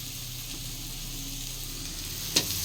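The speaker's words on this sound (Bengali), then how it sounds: "এটা শাক ভাজা হচ্ছে আমাদের।" Leafy greens fry in a pan with a soft, even sizzle, quiet and continuous, broken by one short utensil clink near the end.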